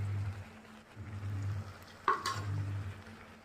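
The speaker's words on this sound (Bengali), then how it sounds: "সিম বেগুন আলুগুলোকে একটু ভেজে নেবো" Flat beans, eggplant and potatoes fry in oil with a soft, low sizzle, and a single brief stirring scrape partway through against a faint background hum.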